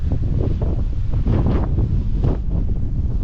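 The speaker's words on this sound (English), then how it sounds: "Still got a lot of wind." Strong wind at a Grampians mountain lookout near Halls Gap, buffeting the microphone in loud, continuous low rumbling gusts with no voices.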